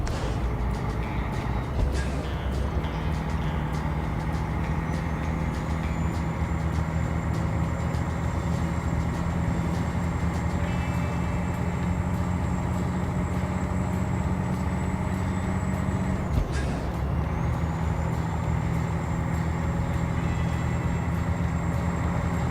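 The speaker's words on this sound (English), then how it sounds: "I do like the sound of that engine." A Freightliner FLD truck engine drones steadily while driving in American Truck Simulator, a constant low diesel rumble with a high whine, a couple of sharp transient clicks, and no talking.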